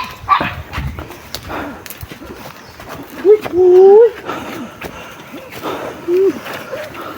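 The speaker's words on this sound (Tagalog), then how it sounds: "Cute ng aso." A dog barks and yips in short bursts alongside voices talking nearby, with a whining, higher-pitched call in between.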